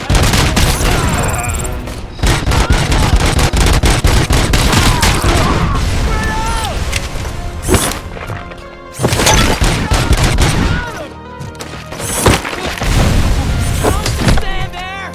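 Loud, rapid gunfire from the video game RoboCop: Rogue City crackles in long sustained volleys with booming impacts, broken by a few short pauses.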